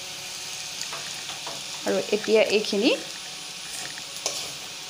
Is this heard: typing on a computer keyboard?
no